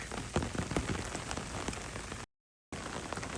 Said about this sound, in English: I am stepping out into a light rain.